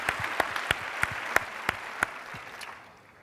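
An indoor audience at a panel session gives a round of applause, a dense, moderately loud clatter of many hands with a few sharper claps standing out, fading toward the end.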